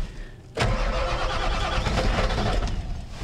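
A 1988 high-horsepower build with glow plugs cranks briefly and catches about half a second in, then settles into a steady, close, rumbling run.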